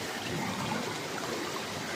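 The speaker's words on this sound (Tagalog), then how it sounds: "Lakas ng agos." Fast river water surges and burbles continuously nearby, a thick even roar with small splashing textures and no voices.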